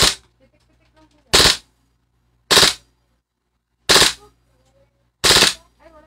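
A toy gun fires four short, sharp bursts at even intervals of about one and a half seconds, with a faint low hum and quiet voices in the background between bursts.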